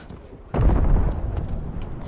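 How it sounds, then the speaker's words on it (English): A sudden heavy explosion in Call of Duty, a deep booming blast that rumbles and decays over about a second, loud against quiet game background. "How did I just explode?"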